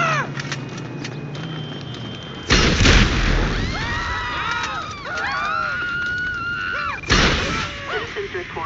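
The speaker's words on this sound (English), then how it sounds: "Citizens report an explosion on Crusade Road in..." Explosions in GTA 5 freeplay: two heavy booming blasts a few seconds apart, loud and close, amid game noise with sirens or whistling tones and voices.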